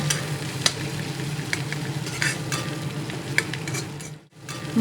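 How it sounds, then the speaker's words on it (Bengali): Ginger garlic paste is stir-fried with fried onions in a pan for an egg curry, giving a continuous sizzle broken by scraping stir strokes and brief clinks, with a short dip near the end. "ভাজা পেঁয়াজের সঙ্গে আদা রসুনের পেস্ট এমনভাবে ভেজে নিয়েছি"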